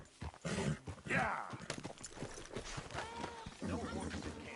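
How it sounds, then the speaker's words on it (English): Horse hooves clip-clop through a camp in the western video game Red Dead Redemption 2, a loose walking rhythm near and moderately clear, with character voices talking over the steps. "No horses in camp, Arthur."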